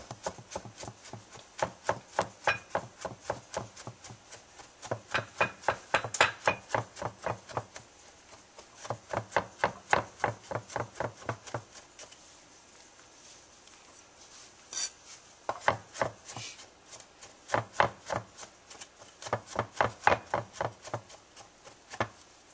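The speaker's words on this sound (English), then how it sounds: "And get nice tiny pieces of garlic." A knife mincing garlic into tiny pieces on a cutting board, rapid rhythmic chopping taps in several long bursts separated by short pauses, close and crisp with no talk.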